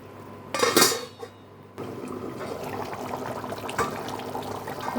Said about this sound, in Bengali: এটা আমি এখন একটু ঢাকা দিয়ে রাখবো।